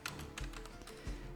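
Quiet clicking of a computer keyboard as a mod name is typed, with a few distinct key taps close to the mic and no talking.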